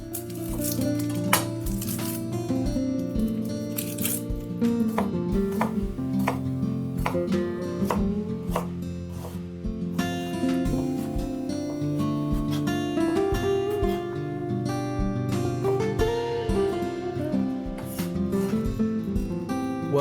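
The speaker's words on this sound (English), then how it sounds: "I peel and dice a few onions." A knife dices peeled onions on a cutting board, producing rapid, irregular chopping taps and squishy cuts over steady background music, fairly close and continuous with no talking.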